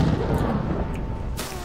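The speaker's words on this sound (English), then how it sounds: "Some people are throwing dynamite. I just threw a dynamite by accident." A dynamite blast in the shooter game Hunt: Showdown rolls out as a loud, close, deep boom with a rumbling tail, and a sharper crack bursts in near the end of the short moment.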